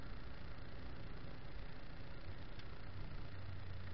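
A car engine, still cold, runs steadily with a smooth, even rumble and a faint hiss, fairly quiet and unchanging throughout.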